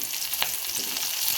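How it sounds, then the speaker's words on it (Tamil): Curry leaves fry in hot oil with a steady close sizzle and crackle, joined by a brief scrape of stirring partway through, with no talking over it. "கொஞ்சம் போல் கருவேப்பிலை சேர்த்துக்கலாம்."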